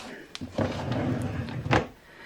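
A drawer in a coloring station, holding markers, slides and bumps shut with a few dull knocks and a sharper thud near the end, quiet and close.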